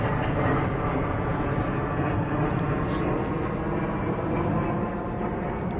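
A low-flying airplane roars steadily overhead above an outdoor press event, a broad continuous rumble that holds for several seconds while people talk faintly beneath it.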